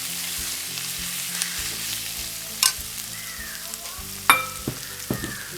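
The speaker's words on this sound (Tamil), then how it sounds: "இதுக்குள்ளே இந்த கொழுப்பை போடுவோம். கொஞ்சம் வதக்கி போட்டு" Goat fat sizzles and fries in a pan for a Jaffna-style goat blood fry, with a spoon stirring and a few sharp scrapes and clinks over the steady crackle.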